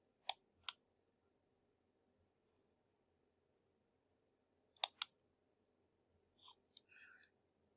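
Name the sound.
clicking save on a computer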